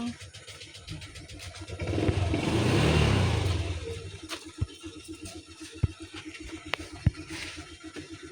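A motorcycle engine in a rural Philippine province swells into a rev that builds and fades over a few seconds, followed by scattered clatter and knocks while voices talk nearby.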